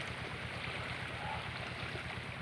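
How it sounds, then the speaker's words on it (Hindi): Water pump driven by an Eicher 188 tractor engine with a new fan, irrigating a sugarcane field; a steady low engine thump runs under a continuous rush of flowing water, fairly faint and without talk. "देखिए बेहतरीन पानी दे रहा है ये आइसर 188।"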